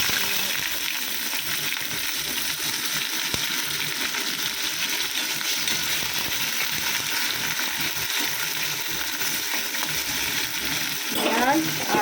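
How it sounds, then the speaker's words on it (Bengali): Chopped onion and potato fry in oil in a pan, giving a continuous, even sizzle with a brief clatter near the end. "পেঁয়াজ, আলুটা দুটোই লাল লাল করে ভেজে দেবো।"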